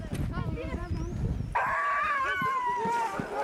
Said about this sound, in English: These girls are running Tim Pavlik's dogs around 6 Mile Track